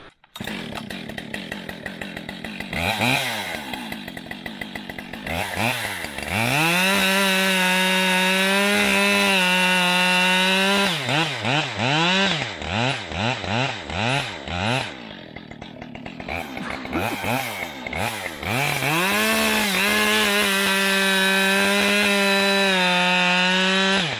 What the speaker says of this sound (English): When you're dealing with loaded up trees like that, I cut through and it was starting to pinch the bar, so I pulled the bar out.